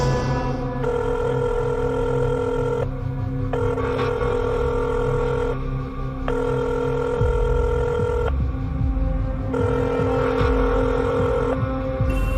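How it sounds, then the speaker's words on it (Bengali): A telephone rings in a Bengali horror cartoon, its electronic ring sounding in repeated bursts of about two seconds with short gaps, loud and steady over a low humming, throbbing background. "বন্ধু মেহুলকে ফোন করলো সে।"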